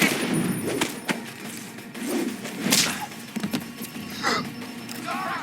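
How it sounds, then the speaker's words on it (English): Suppression gunfire from the video game Deus Ex: Human Revolution, with sharp irregular shots and bursts cutting through a dense background of game noise and faint voices. "Suppression fire"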